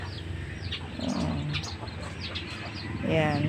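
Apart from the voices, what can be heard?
chickens clucking at feeding time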